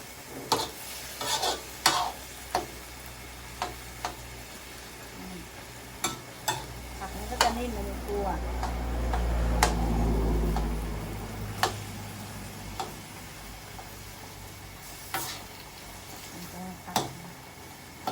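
Mama instant noodles are stir-fried in a pan, a soft sizzle under irregular sharp clicks and scrapes of a utensil against the pan, with a low rumbling swell in the middle, close and quiet.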